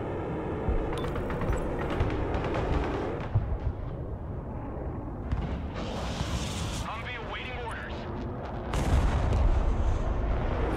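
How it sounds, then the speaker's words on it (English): Artillery fire in the Broken Arrow war game, heavy booms and rumbling battlefield blasts running continuously under a voice, with a louder burst of explosions near the end. "Mobile artillery standing by. Engaging targets with direct fire."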